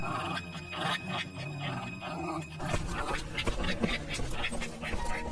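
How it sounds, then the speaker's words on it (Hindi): A dog attacks in a forest, grunting and panting loudly and close by in a dense, continuous stretch, with busy noise and scuffling around it. "अरे झुमरू, तेरे पीछे जो लाठी पड़ी है उससे इस कुत्ते को भगा।"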